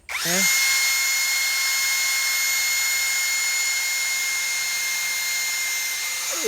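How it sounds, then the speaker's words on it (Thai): Handheld power drill boring into a coconut palm trunk, a loud steady high whine that starts abruptly and holds for several seconds, close to the microphone with no talking. "เจาะสว่านจะเจาะไปที่ ต้นมะพร้าวตรงนี้เลย"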